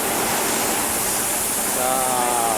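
Dense, rushing hiss of water spraying under pressure from a fire hose, loud and steady from start to finish.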